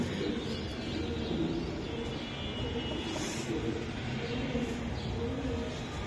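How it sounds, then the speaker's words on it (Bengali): Racing high-flying pigeons in a loft give soft cooing calls, set against steady low rumbling background noise and faint chirps, with no talking heard. "খুবই সুন্দর কবুতর"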